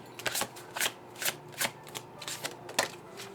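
Tarot cards being shuffled and drawn, a run of crisp riffling flicks in quick irregular bursts, close and moderately loud, with no talk over them.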